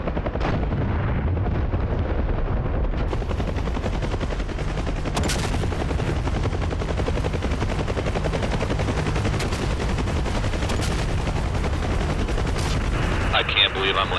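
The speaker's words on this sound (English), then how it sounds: "I'm flying through artillery" Heavy artillery fire and rapid gunfire pound continuously in a video game as an aircraft flies through the barrage, a dense, loud, sustained battlefield roar with sharp blasts punching through and talk over the top.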